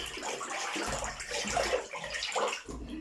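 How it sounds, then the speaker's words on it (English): Water gushes steadily from a tap into a bathtub being filled for a slime bath, a close, continuous rushing splash with no pauses. "We want to fill the whole bathtub, but Helena wants to check first"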